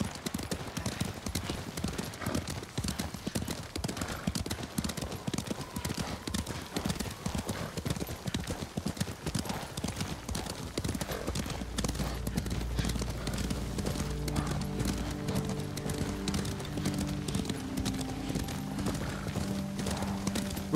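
Horses in the video game Ghost of Tsushima clop along in a steady rhythm of hoofbeats with an occasional whinny, and low tonal sounds swell in during the second half.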